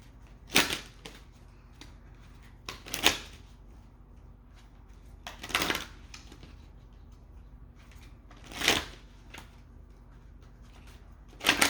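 Oracle cards being shuffled by hand, a few short riffling bursts spaced several seconds apart over a quiet low hum, with no talking.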